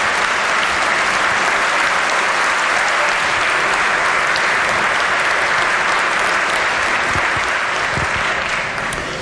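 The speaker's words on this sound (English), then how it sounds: "Can the House please give them a warm round of applause?" Warm, dense round of applause in a state legislative chamber, sustained and even for several seconds before easing slightly at the end.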